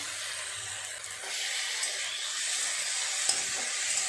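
Ginger-garlic paste frying in oil in a pan for a mutton mince dish, a steady bright sizzle and hiss throughout with a brief stir near the end, no talking.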